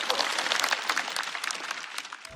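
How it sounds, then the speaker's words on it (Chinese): A stand-up comedy show audience gives the comedian Wang Ying a round of applause, a steady patter of many clapping hands that holds through the moment and tapers slightly at the end. "我们再次把掌声送给王颖"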